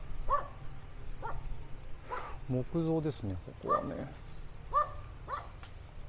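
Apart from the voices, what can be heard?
guard dogs barking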